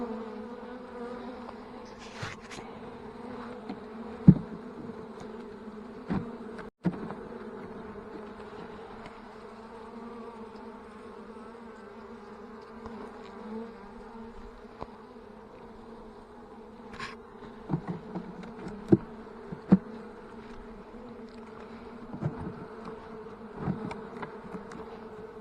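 Honey bees buzz steadily throughout an early spring hive inspection in West Virginia, a dense, close, continuous drone broken by occasional light knocks and clicks of handling.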